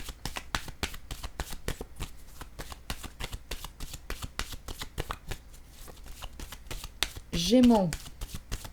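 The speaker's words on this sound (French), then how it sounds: "Je vais reprendre les cartes du départ, les mêler, les mélanger." Tarot cards being shuffled by hand, close and crisp, in a long run of quick rhythmic riffles and slaps; a voice speaks briefly near the end.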